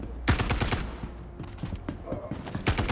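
Rapid bursts of gunfire from the video game Star Citizen, close and loud in quick clustered volleys, with a voice talking over parts of it.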